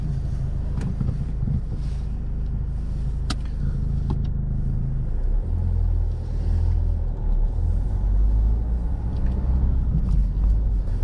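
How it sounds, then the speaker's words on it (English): A car drives along a road, heard from inside the cabin as a steady, loud low rumble of engine and tyres with wind noise and no talking. "so we're going to drive on now"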